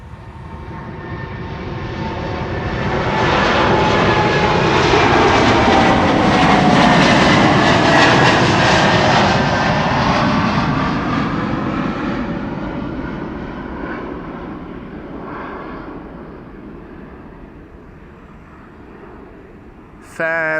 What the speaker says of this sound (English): This is American Airlines flight 203 to Philadelphia. It's a 7878 Dreamliner.